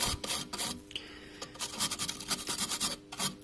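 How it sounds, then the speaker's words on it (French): A stiff brush scrubs and scrapes across a circuit board being cleaned after soldering, close and alone in quick, uneven rasping strokes with brief pauses. "on va venir sécher, nettoyer, gratter avec une brosse"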